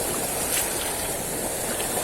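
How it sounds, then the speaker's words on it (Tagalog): Strong sea waves washing onto a shoreline at a fishing spot, a loud continuous broadband roar of surf and wind with no break, close and filling the whole span. "lumakas ang alon ah"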